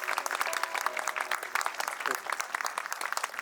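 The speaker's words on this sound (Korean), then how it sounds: "여러분 큰 박수 부탁드리겠습니다" Wedding guests at a Korean wedding ceremony applaud as the groom bows deeply to his parents. The clapping is fairly faint but steady and continuous, with some voices mixed in underneath.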